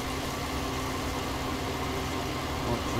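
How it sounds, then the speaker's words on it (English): A tractor engine in Farming Simulator 19 with a John Deere on the farm, steady droning hum at an even level, continuous and close, no talking. "We shall now hopefully have a tractor that will go drive the course."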